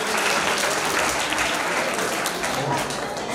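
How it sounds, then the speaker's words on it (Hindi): An audience at a community annual function in Ahmedabad claps steadily, a dense and fairly loud sustained applause that lasts the whole stretch, with faint voices mixed in. "के लिए तालियां बजाइए प्लीज।"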